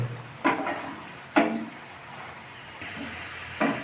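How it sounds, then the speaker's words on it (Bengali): Fish egg fritters frying in a pan of oil, a soft steady sizzle punctuated by a few sharper bursts of crackling as pieces are flipped and turned. "বড়ার এক পাশটা প্রায় ভাজা হয়েছে এবার উল্টিয়ে দেওয়া হচ্ছে উল্টিয়ে পাল্টিয়ে ভালোভাবে ভেজে নিতে হবে"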